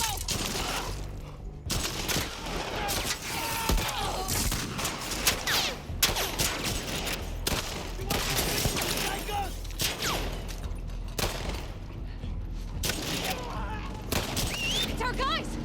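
Dense gunfire in the video game The Last of Us Part II, a steady barrage of rapid shots and bursts, loud and close throughout, with voices shouting underneath.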